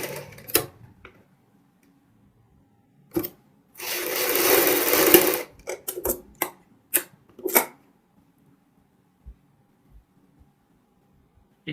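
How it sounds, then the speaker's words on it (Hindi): A sewing machine stitches a buckram-stiffened collar onto a Punjabi suit, one loud, close burst of fast stitching lasting over a second, followed by scattered light clicks and taps as the fabric is handled. "इस साइड भी हम नोक को इसी तरीके से ध्यान से हल्की सी ऊपर को उठाते हुए बुकरम को और सिलाई लगाएंगे।"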